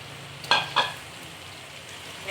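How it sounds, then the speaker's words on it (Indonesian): Anchovies (ikan bilis) dropped into hot oil give two sharp crackling bursts, then settle into a soft continuous sizzle, close by in a home kitchen. "Sudah panas, kita masukkan kita punya ikan bilis."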